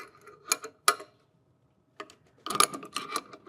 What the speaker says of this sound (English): we'll take a crescent wrench and slide it onto the nut there, like so.